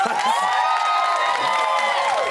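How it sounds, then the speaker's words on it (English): Studio audience on a live entertainment show cheering and whooping with scattered clapping, a loud, sustained crowd roar that fills the whole stretch without pause. "I think give him a little clap."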